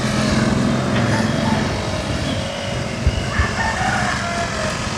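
A national-banded gamecock stag crows on a breeding farm, one drawn-out call standing out clearly over steady outdoor background noise, with no talking.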